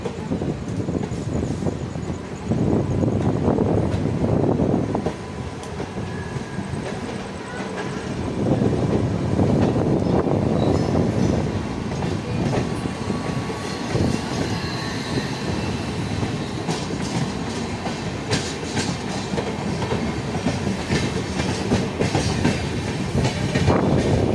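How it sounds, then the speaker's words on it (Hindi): The Janta Express passenger train on the Banaras–Dehradun run passing close by on the rails, a continuous loud rumble with rhythmic clickety-clack swells from the wagons and faint wheel squeal throughout. "और ये निकल रही है हमारी जनता एक्सप्रेस बनारस देहरादून"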